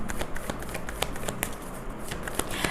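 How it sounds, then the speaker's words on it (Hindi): Tarot cards being shuffled and drawn during a Hindi-Urdu love reading, a continuous close riffling and soft papery flicking with occasional sharper snaps as cards are pulled from the deck. "अभी मैं लव लेटर के लिए कुछ कार्ड्स निकालती हूँ।"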